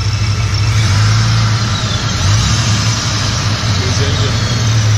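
A Dodge Ram SRT-10 pickup with a Viper 8.3-litre V10 idles with a steady, low, loud rumble and a constant droning hum, heard up close under the hood.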